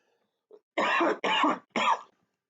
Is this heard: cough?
yes